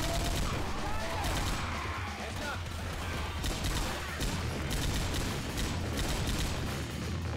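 Bursts of gunfire in the Left 4 Dead 2 zombie shooter, dense rattling shots and impacts crowding the mix over steady game noise.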